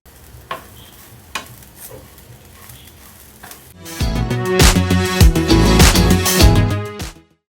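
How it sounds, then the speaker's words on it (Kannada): Curry leaves frying in a pan for Mangalore-style crab sukka: faint crackles and taps at first, then a loud, dense burst of sizzling and spattering oil that carries on for several seconds before cutting off. "ಈಗ ಇದನ್ನು ನಾವು ಚೆನ್ನಾಗಿ ಫ್ರೈ ಮಾಡ್ಕೋಬೇಕು."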